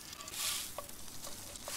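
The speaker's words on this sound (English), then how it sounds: "I guess this is bacon. That's right. Cook that bacon." Bacon fries in a pan with a steady, close hissing sizzle and a few faint crackles, over a short stretch with no talking.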